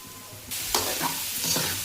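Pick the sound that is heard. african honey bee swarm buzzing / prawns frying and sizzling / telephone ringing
prawns frying and sizzling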